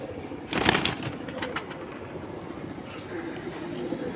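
High-flying female pigeons coo softly in a loft, a few low murmuring calls amid faint background noise and scattered clicks, with a brief louder rustle near the start.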